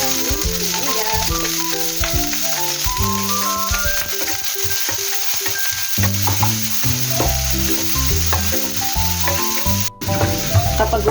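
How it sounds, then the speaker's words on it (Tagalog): Onion and garlic fry in a pan, a loud, steady close sizzle with crackling spatter and occasional stirring scrapes, continuing without talk. "Isunod na natin ang sibuyas."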